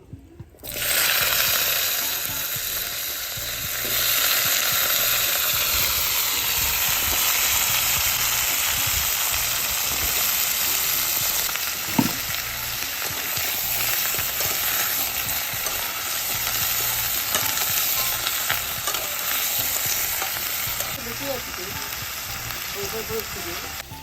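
Mixed vegetables drop into hot oil with five-spice and give a loud, sustained sizzle and hiss that runs steadily for the whole stretch, with occasional clinks from stirring.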